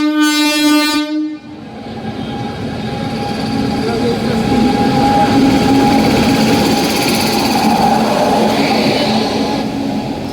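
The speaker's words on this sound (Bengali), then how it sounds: "আগের ট্রেনটা খারাপ হয়ে যাওয়ায় এই ট্রেনটা আবার এলো 1 নম্বর প্ল্যাটফর্মে" A train's engine and carriages at a small halt station beside platform 1, a short loud horn blast at the start followed by a steady, loud rumble and clatter of the train moving close by.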